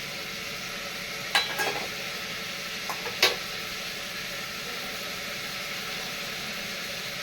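Tomato and other vegetables sautéing in a pan, a steady hiss running throughout, with a few brief clinks of stirring near the start and again a little later.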